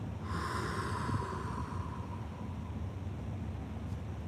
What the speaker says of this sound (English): and then breathe out completely